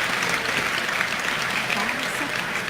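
Steady, dense applause fills an esports arena at the DreamLeague Season 11 Dota 2 grand final, a continuous wash of many clapping hands held loud throughout.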